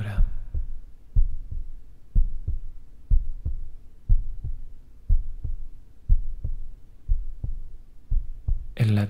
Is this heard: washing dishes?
no